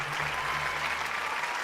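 An audience at the AMMA Kudumba Sangamam 2025 stage show breaks into dense, sustained applause, a continuous wash of clapping from a large crowd that holds steady throughout.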